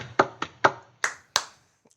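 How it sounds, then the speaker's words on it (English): Five sharp hand claps close into a microphone, spaced unevenly, each crisp with a short decay, followed by a faint tap and silence. "I'm gonna I know give what you applause sounds like on a microphone"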